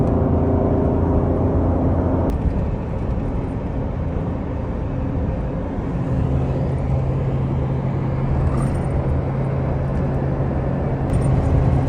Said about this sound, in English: we're driving along